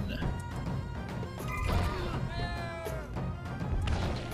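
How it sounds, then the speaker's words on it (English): Buildings smashed in the video game Rock of Ages, a dense stretch of crashing, thudding game effects with music-like tones layered throughout, loud and continuous. "Earning a little extra money by smashing those buildings."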